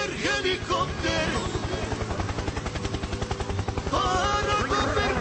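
A helicopter's rotor thumps in a rapid steady beat close by, loud and continuous throughout, with a voice briefly heard over it.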